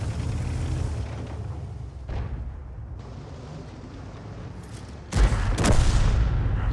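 Heavy booming cannon fire from tanks in World of Tanks, including a Bat.-Châtillon 155 58 artillery piece, with loud rumbling blasts and a sharp new report near the end over continuous low battle noise.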